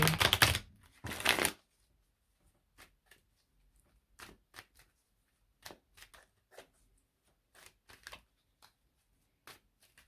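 Tarot cards riffled twice in quick bursts, followed by scattered soft taps and flicks as cards are handled and laid down, close and quiet.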